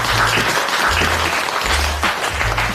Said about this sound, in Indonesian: Mari kita gunakan tepuk tangan yang meriah.